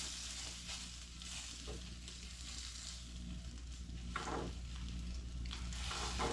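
Bacon fries in a pan with a steady, dense sizzle that runs throughout at close range, with no voices over it.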